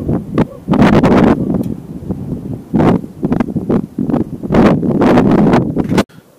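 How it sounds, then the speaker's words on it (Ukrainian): Strong wind blows outdoors during a tractor front axle repair, battering the microphone in loud, roaring gusts that rise and fall, then cut off abruptly at the end. "У нас зараз сильний вітер"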